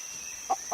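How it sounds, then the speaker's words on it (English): A chicken gives two short clucks, close and moderately loud, spaced about a quarter second apart over a faint steady background tone. "Chicken."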